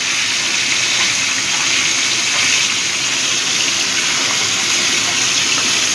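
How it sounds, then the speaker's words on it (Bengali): Small mourola fish sizzling as they are briefly seared in hot mustard oil, a steady close, loud hiss and crackle that holds level throughout with no talk. "এবার মাছগুলো একটু জাস্ট সাঁতলে নেব, ভাজবো না।"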